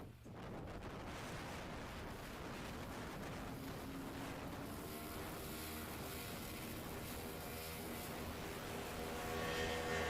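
A Highlander STOL airplane takes off short at a mountain competition, its engine a loud broadband roar that swells and holds, heard from nearby on the field.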